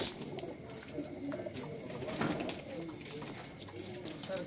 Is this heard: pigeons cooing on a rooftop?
yes